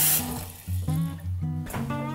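Cold water runs from a kitchen tap into a coffee pot, a loud, close splashing stream that surges and eases in uneven bursts over a couple of seconds, with a tonal hum beneath it.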